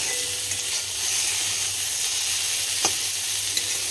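Oil sizzles steadily in a pan on a home kitchen stove, heated before cauliflower goes in, a continuous close frying hiss with a brief crackle near the end and no talking.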